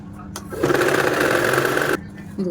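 A sewing machine stitches the shoulder seam of a kids' frock in one loud, steady whirring burst of about a second and a half, with quiet handling noises before and after.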